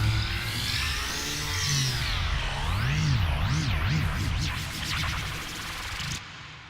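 A Sylenth1 synth effect with curved rate automation sweeps through warbling, wavering pitch patterns that speed up, a thick buzzy tone playing alone until it cuts off near the end.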